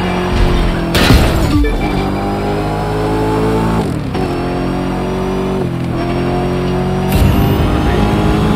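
Noble M600 supercar engine in The Crew 2, revving loud and steady through a long drift, pitch stepping up and down with gear and throttle changes, punctuated by a few sharp bursts.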